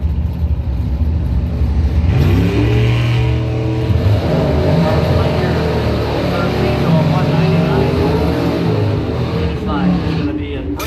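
Drag race cars, a 1979 Malibu and a 1975 Dodge Dart, roar down the strip in a bracket race, loud engine drone rising and shifting for several seconds under a steady announcer's voice.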